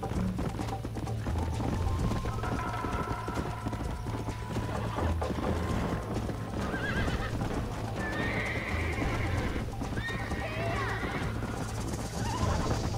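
Horse hooves clip-clop at a gallop with repeated neighs and whinnies in the Red Dead Redemption video game, a loud, continuous rhythmic pounding with a little game background noise.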